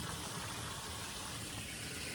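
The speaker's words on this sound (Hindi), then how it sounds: "ये भैया अभी इसके अंदर पानी भर रहे हैं." Water gushes steadily into an open jacuzzi tub at a villa in Udaipur, a continuous, even rush of flow heard alone without talking.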